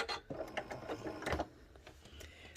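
A quilting sewing machine works very slowly, one stitch at a time, giving faint, close mechanical clicks and soft whirs in short irregular bursts.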